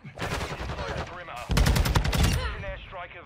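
Rapid bursts of TAQ 56 assault rifle fire in an online ranked shooter match, loud and close, with a sustained volley in the middle under a player's brief excited voice.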